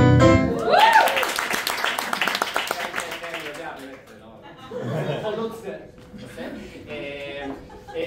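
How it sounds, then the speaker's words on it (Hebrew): An improv show audience claps hard near the start, with chuckles and laughter mixed in, then the applause fades into chatter and a voice that keeps talking under a few later scattered claps. "תמחאו כפיים לצמחונים."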